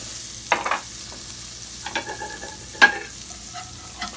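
Flour sprinkled into hot oil in a pan sizzles quietly while a utensil stirs and scrapes, with several distinct clicks and scrapes over a soft continuous fry, and no talking.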